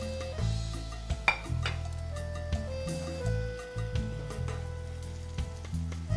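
Salmon searing in very hot oil in a pan, a loud steady sizzle running throughout, punctuated by occasional clinks of utensils and a background musical tone.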